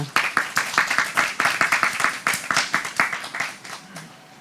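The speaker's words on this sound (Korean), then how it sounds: "큰 박수로 맞아주시기 바랍니다." Audience members at a MICE industry roundtable clap warmly to welcome panelists, brisk overlapping claps close by that taper off over a few seconds.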